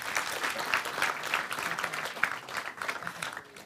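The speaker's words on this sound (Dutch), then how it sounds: "Een warm applaus voor Hafsa Moederhoop." A studio audience at a morning talk event on freedom breaks into warm applause, a dense, steady patter of many hands clapping that holds throughout at an even level.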